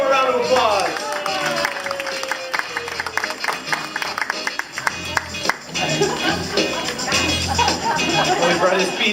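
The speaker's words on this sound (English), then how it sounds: "Let's give him a round of applause." An audience at a lunch-time magic show breaks into applause and crowd noise, sustained clapping and babble filling the room at moderate loudness, with a voice speaking over it.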